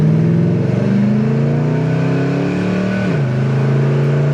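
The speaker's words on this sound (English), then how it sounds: "see if we can go through the gears manually on it." 1972 Chevrolet Monte Carlo with a numbers-matching motor and transmission accelerating, its engine note rising steadily, dropping at a gear shift, then climbing again, heard loud and close from inside.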